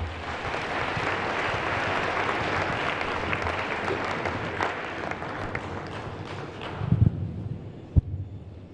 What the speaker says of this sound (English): That was splendid. Another applause, please.